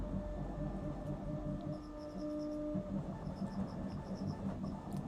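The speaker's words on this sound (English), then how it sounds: "can you guys hear my 3D printer making sounds?" A 3D printer runs quietly in a room, its faint, steady mechanical whir carrying a soft, intermittent high-pitched stepping chirp throughout.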